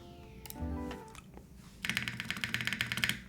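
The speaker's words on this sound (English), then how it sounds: "Here, I'll give you guys a typing test." Rapid clacking keystrokes on a Block67 mechanical keyboard build fire off in a quick, uneven rhythm close to the mic, after a brief stretch of softer clicks and room noise.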